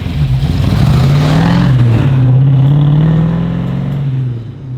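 A 1967 Ford Mustang GT500 Restomod pulls away with a loud, deep engine roar that rises and falls as it revs, heard close from inside the car before easing off at the end.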